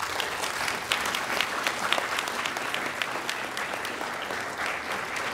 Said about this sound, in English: so students, I think they need some applause.